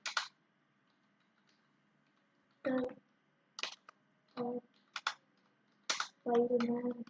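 Keyboard typing in Notepad comes in short clicky bursts separated by quiet gaps, with a longer flurry of keystrokes near the end.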